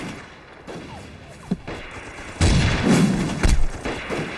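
Gunfire in a war drama set during the fight against Japanese troops, with a few sharp shots followed by a louder, heavier burst of booming fire close by.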